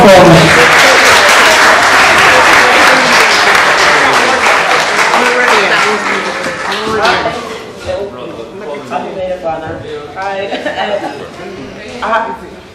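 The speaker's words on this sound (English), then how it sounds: "Give her a round of applause as she comes" Applause at a wedding as the maid of honor comes up, loud and dense at first, then thinning out over several seconds into scattered claps with voices chatting and laughing.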